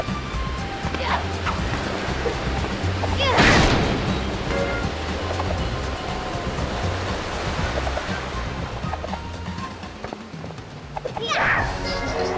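Ocean waves in the Kim Possible video game: continuous surf wash with two louder crashing swells, one early and one near the end, heard alone at moderate loudness.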